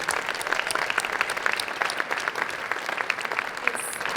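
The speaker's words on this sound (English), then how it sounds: "Let's give all of our speakers a round of applause." Sustained applause from a theatre audience, dense clapping at a steady level throughout with no break.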